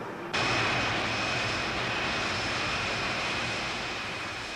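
A British Airways Boeing 747 jet taxiing, its engines giving a loud, steady roar and whine that swells in abruptly after a brief quieter start and holds constant throughout.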